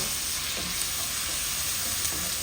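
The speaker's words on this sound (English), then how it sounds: "at this point is when I add another teaspoon of ginger garlic paste, okay, and give it a quick stir" Ginger garlic paste fries in a pan with a dense, constant sizzle that stays loud and even throughout, with a faint stir underneath and no voices.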